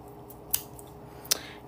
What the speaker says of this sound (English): I'm just going to cut my pieces into half